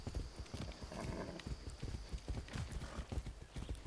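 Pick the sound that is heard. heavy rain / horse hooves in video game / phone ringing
horse hooves in video game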